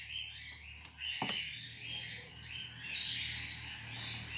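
Newly hatched chicks in an improvised home incubator chirp in high, thin peeps that repeat steadily over a low electrical hum, with a brief knock near the start.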